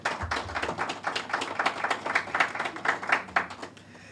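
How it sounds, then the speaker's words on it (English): A room of people at a press launch claps steadily, dense and fairly close, with no talking, tapering slightly at the end. "And yes, you can clap for that."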